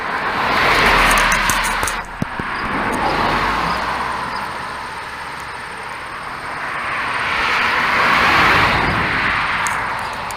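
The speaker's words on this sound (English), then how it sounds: "One more car, I'm gonna get going." Car passing in traffic, a loud broad whoosh that swells and fades, then a second vehicle rising toward the end, with no voices.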